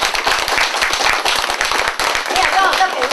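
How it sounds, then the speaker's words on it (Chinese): A crowd applauds at a wedding ceremony, steady dense clapping throughout with voices mixed in underneath. "好，掌声祝福这里"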